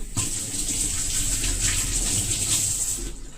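Fresh ginger is rinsed under a steadily running tap in a kitchen, a continuous close splashing gush of water that lasts throughout without any talk.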